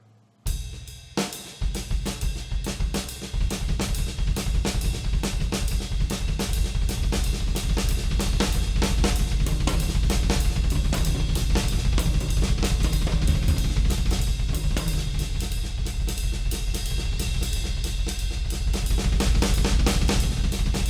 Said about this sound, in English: If you have a double pedal and you feel like getting busy, it's pretty easy to do that exact same thing, but play 2 feet instead of 1